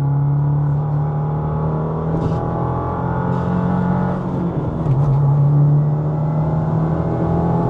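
A Subaru WRX with a manual transmission takes a corner, its engine a steady close droning hum that dips briefly, then settles back to an even note.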